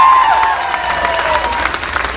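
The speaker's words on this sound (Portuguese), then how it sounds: "As nossas palmas e o nosso carinho para o nosso maestro Luiz Mourinho." A crowd claps and cheers at a concert, a dense, steady wash of applause with gliding tonal lines drifting over it early on, holding at a fairly loud level throughout.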